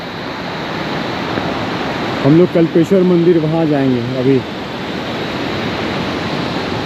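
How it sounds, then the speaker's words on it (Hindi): The Kalp Ganga, a mountain river near the Kalpeshwar bridge in the Panch Kedar region, rushes steadily as a broad, continuous wash of water noise, with someone speaking briefly over it midway. "ये जो मेरे पीछे आप लोग नदी देख रहे हैं, ये इसी को कल्प गंगा बोलते हैं"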